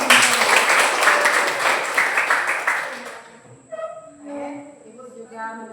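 A classroom group of students applauds during a lesson, with dense, lively clapping for about three seconds that then stops abruptly, followed by a voice speaking over quiet room sound.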